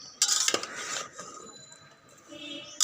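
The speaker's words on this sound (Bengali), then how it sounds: "আমি ভোনার মধ্যে ডাটা এবং আলু দিয়ে দিলাম এখন এটাকে খুব ভালো করে নাড়তে হবে" Potatoes and vegetable stems are stirred inside a rice cooker pot, giving a few metallic scrapes and clinks of a utensil against the inner pot, close and moderately loud, then quieter scraping.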